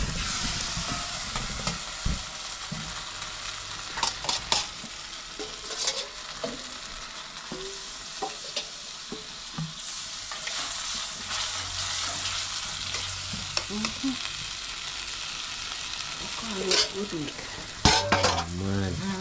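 Oil sizzles steadily at a Jamaican street food stall where fish is being fried, broken by scattered clinks and scrapes of pans and utensils. There is no talk.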